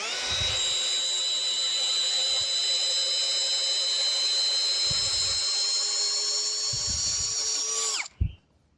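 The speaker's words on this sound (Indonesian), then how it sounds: "Ini kita coba buat ngebor beton ya" A Skoota 16.8V cordless drill boring into real cast concrete, its motor whining loudly and steadily for about eight seconds, with dull knocks underneath, then spinning down with a final clunk.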